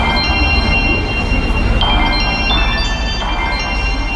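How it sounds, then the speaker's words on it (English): Synthetic bell tones from an iPhone music app ring in layered, sustained chimes over a dense, loud musical bed, with new strikes arriving every half second or so. "I found some really interesting bell sounds on the music app"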